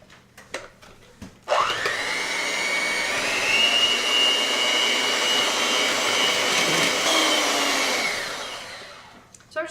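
An electric mixer whips cream sweetened with icing sugar, whirring steadily and loudly for about six seconds before winding down, with brief clatter before and after.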